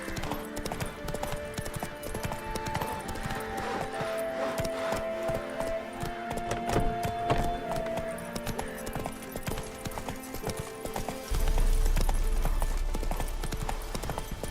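Hooves of Roach, the horse in The Witcher 3, clip-clopping steadily at a gallop over an ambient game soundscape, with the rhythm continuing throughout and a low rumble joining near the end.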